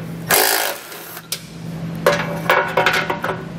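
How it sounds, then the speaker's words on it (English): A socket wrench works 14 mm bolts loose under a 2022 Subaru Forester while a trailer hitch is installed, giving a sharp metallic clank followed by bursts of close ratcheting and clicking over a low background hum. "we'll grab our socket and pull all these out"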